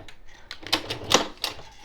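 A sewing machine makes a few quick stitches over the end of a zipper tape, a handful of close, sharp clicking taps in an uneven rhythm with no talking.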